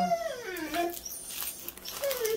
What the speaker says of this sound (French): Et oui, il y a Luna qui aboie là